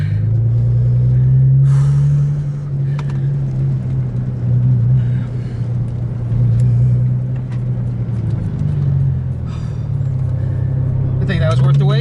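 A Nissan GTR on a motorsport ride-along drives with a steady, loud engine drone and road rumble throughout. Passengers talk over it, and a brief shift in engine pitch comes near the end.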